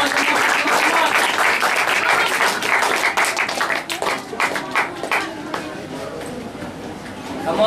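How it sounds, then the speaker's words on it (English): Audience clapping at a 2012 school debate competition, a dense burst of applause that starts loud and gradually thins into scattered claps, with voices talking over it. "You can clap, guys."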